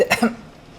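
A single short cough, two or three quick harsh bursts close to the microphone, then quiet.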